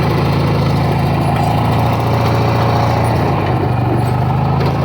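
An old Ford Shorty van's engine runs steadily in low gear, a loud continuous low rumble with a throbbing idle-like pulse, filling the whole clip without speech.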